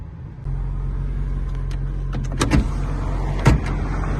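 The electric rear window of a 1984 Saab 900 Turbo runs with a steady whirring motor hum under a low idle, and sharp clunks and thumps near the end as the glass reaches its stop.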